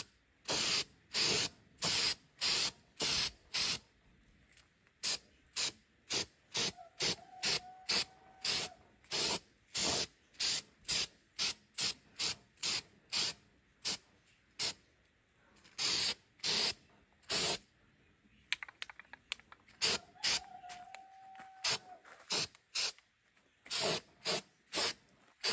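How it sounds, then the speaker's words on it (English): Aerosol spray paint can hissing in a long series of short, regular bursts with brief pauses, applied in thin coats onto a pan to give it a rusty look for primitive rustic home decor; close and alone. "What I want to do is spray this pan so it looks rusty."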